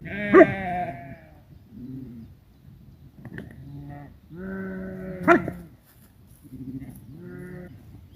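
Several sheep bleat repeatedly, close and loud, with wavering cries overlapping and a couple of sharp knocks in between.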